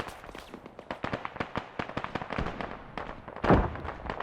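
A BTR armored vehicle in the Arma 3 war game fires rapid bursts of sharp cracking shots, dense and irregular, with a heavier blast near the end, all moderately distant and without speech.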